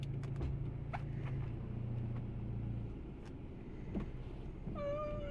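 A BMW F30 320i with the N20 engine and its muffler deleted drones with a low, steady exhaust rumble while driving, and a cat-like squeal rises briefly near the end.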